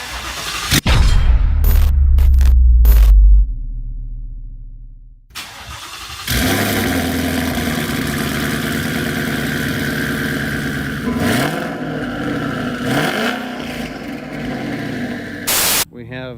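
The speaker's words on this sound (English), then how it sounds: "The world's first ever cold start twin turbo Corsa active exhaust, lethal exclusive, made by Corsa, double H pipe." A twin-turbo car fitted with a Corsa active exhaust and double H-pipe cold-starts outdoors: a starter whirr and bursts, then a loud, steady rumbling idle that swells briefly near the end.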